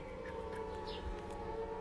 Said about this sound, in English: Just the siren test for the firefighters.